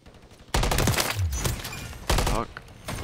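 Bursts of rapid automatic gunfire ring out during a ranked Hardpoint match in a shooter video game, two loud volleys separated by brief pauses, with a player talking.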